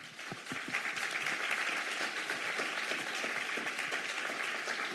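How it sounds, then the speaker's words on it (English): An audience at a mayoral forum on affordable housing claps steadily, a few sharp claps first, then a full, even round of applause that fills the room at moderate distance. "Let's give our candidates a round of applause, please."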